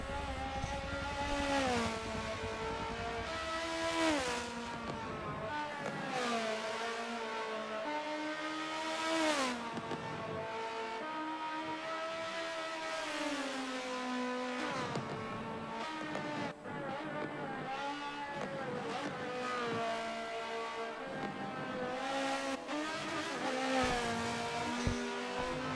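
A GT500 race car laps Bathurst in a racing video game, its engine revving up and down through repeated gear shifts, loud and continuous with occasional tyre noise.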